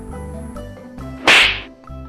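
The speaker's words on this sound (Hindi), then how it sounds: "थप्पड़ मारती है।" A cartoon slap effect in a Nobita and Shizuka animated scene, a single sharp whip-like smack over background music, loud and close.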